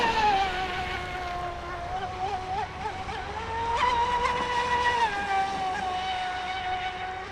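A Traxxas Spartan RC boat fitted with new profile props whines at high speed on a run, a loud, steady motor tone that rises and dips slightly as it races across the water.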